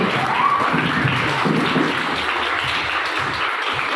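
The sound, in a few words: audience applause for the candidates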